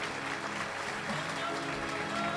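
Steady applause from an audience at a one-day Shrimad Bhagavat katha gathering in Lakhoni village, a dense even patter of clapping throughout with a hint of voices beneath.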